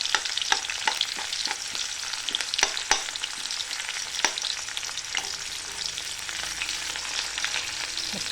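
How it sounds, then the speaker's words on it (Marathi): Mustard seeds crackle and onions sizzle in hot oil in a pan for moong dal, a steady frying hiss with scattered sharp pops and stirring, close up and without talk. "आता ते आपण कडकडीचा आवाज आला आहे मोहरीचा. आता टाकते कांद्याला"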